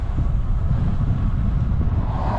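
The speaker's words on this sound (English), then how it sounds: "it's quite windy" Wind buffets a microphone on a bike ride along the Cumbria Cycleway, with steady low rumbling and irregular gusty thumps, continuous throughout with no voices.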